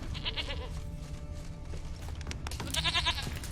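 Goat bleating in The Witcher 3, a few wavering bleats at the start and a louder, nearer bleat toward the end over background game ambience.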